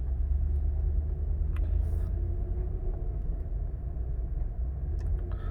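Lexus GX470 driving on pavement in 4 high with the center differential locked, a low steady engine and road rumble from inside the cabin, with a few faint clicks and creaks over the drone.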